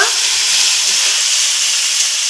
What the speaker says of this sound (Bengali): আর এই উল্টো পাল্টাগুলো করে মাছগুলো ভেজে নিব